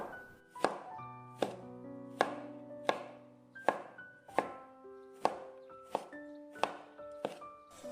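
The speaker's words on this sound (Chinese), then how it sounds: "最后改刀切成茄子丁" A knife chops peeled eggplant into small cubes on a board, about ten steady, evenly spaced thunks, with soft background music underneath.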